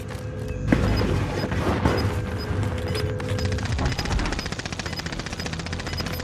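Gunfire from the video game Call of Duty: Warzone sounds as a continuous stream of rapid automatic shots with booming impacts, dense and loud, with steady firing carrying right to the end.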